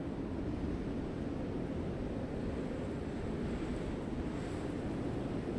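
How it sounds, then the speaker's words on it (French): A strong wind sound effect from Roll20 blows as a steady, dense rushing roar, loud and unbroken from start to finish with no voices over it. "Un vent puissant."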